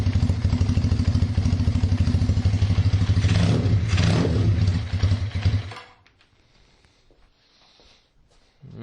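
Single-carb Kawasaki KZ440 motorcycle engine idling with a rapid, loud mechanical throb and clatter during carburettor tuning, then the engine dies away to near quiet.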